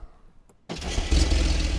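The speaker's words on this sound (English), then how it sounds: "Let's do a cold start on this new engine." A new Porsche 911 Turbo S hybrid engine cold-starts in a car park: after a near-silent moment it fires instantly and settles into a loud, steady, close idle.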